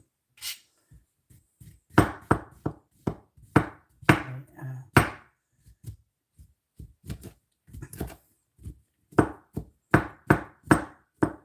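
A knife chops mushrooms on a cutting board for beef wellington, giving a steady run of sharp, crisp knocks in quick irregular bursts, close and clear with no talk over it.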